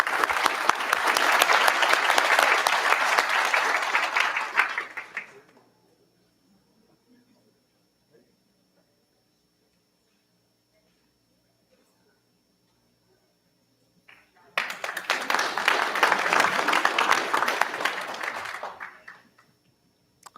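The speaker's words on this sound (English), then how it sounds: "Let's give Tristino one more round of applause." A school board meeting audience applauding for Tristino, a loud sustained round of clapping for about five seconds, then near silence with faint small noises, then a second long burst of crowd applause.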